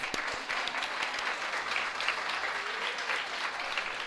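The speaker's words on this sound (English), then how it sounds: "I'm going to ask the authors to give us a little wave as we give them a clap" An audience at the 2018 Laugh Out Loud Book Awards ceremony claps for the shortlisted children's authors, a steady, even wash of applause that holds for about four seconds with no talking over it.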